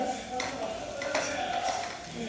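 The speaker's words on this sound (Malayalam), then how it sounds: "നല്ല എരിവുള്ള ചില്ലി പൗഡർ ആയത്, കാശ്മീരി അല്ല. അതുകൊണ്ട് 1 സ്പൂൺ മതി. നന്നായിട്ട് ഇളക്കി കൊടുക്കാം." Spices and chilli powder stirred in a pan for chicken roast, a utensil scraping and clinking against the metal over a soft sizzle, close and quiet.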